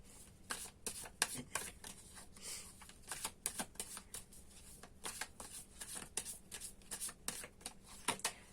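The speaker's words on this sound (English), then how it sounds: "So let's continue to pull cards." Tarot cards being pulled and shuffled from a deck, producing a steady run of soft, crisp papery flicks and snaps, close up and moderately quiet, with no voices.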